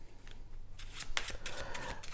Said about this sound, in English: Now what I'm going to do is just shuffle the cards